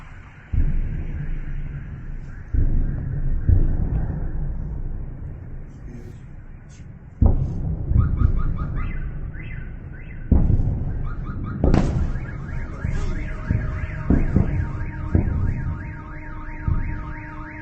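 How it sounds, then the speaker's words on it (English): Deep artillery shell explosions thud at irregular intervals, some distant and some sharper, under a steady wailing alarm tone; faint voices murmur in places. "You can hear all the shells going off in the background."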